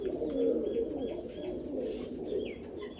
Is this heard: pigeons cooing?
yes